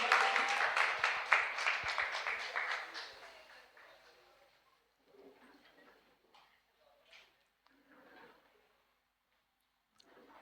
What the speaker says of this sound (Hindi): इनके लिए एक जोरदार तालियां बजाइए।